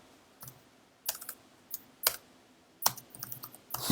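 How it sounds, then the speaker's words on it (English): A computer keyboard is typed on in short, scattered bursts of crisp key clicks with brief pauses between them, close and fairly quiet, with no talking. "Typing, man. Typing's hard."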